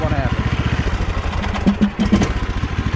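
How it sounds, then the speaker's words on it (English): A Troy-Bilt Bronco 46-inch lawn tractor engine runs with a loud, pulsing chug, then sputters and stalls as the safety cutoff kills it with the parking brake off, leaving a few uneven dying beats. "if you try to get off the tractor and your parking brake is not on, it will try to shut off on you"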